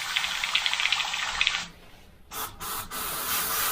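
An airbrush blasts thinners through its nozzle during cleaning, a sustained bright hissing spray for about a second and a half, then a brief lull and a few shorter broken bursts of rushing air.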